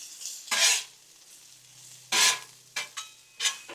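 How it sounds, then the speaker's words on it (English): Peppers and onions sautéing on a Blackstone griddle, a quiet steady sizzle with four sharp, loud scraping strokes of a spatula across the flat-top, close and without talk. "Now, we will throw in all our peppers and onions and what have you. All the good stuff. And get them to sauteing down."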